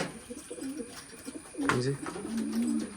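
Pigeons cooing close by, soft throaty rolling coos rising and falling over a faint outdoor background, with one louder swelling call partway through.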